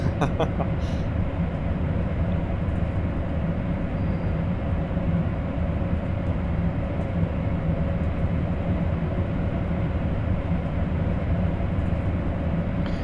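A train in the Train Sim World 3 game runs with a steady, continuous rumble and hum of the rail unit, constant in loudness throughout, with no voices over it.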